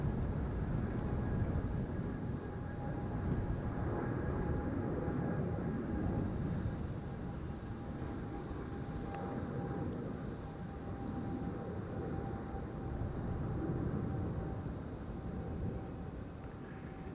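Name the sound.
Qatar Airways airliner taking off from Schiphol runway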